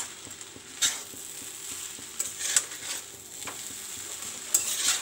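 Egg chow mein is stirred in a pan over a low sizzle, with scattered metallic scrapes and clacks of a utensil against the pan at an uneven pace.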